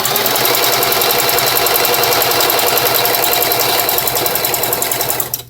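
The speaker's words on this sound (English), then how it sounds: "Now I'm sewing pretty fast" A sewing machine runs fast and steady, stitching along a strip of blue ribbon in a continuous close whir that stops abruptly at the end.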